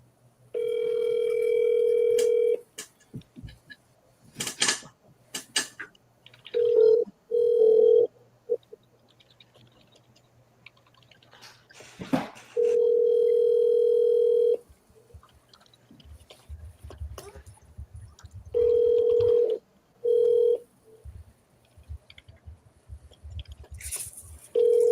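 Telephone call tones on a live seller call: several bursts of steady ringback tone, each a few seconds long and separated by gaps, plus scattered clicks and handling noise, with no talking.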